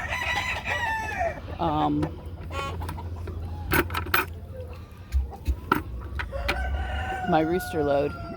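Several roosters crow loudly, one after another, with clucking and scattered clicks in a busy farmyard.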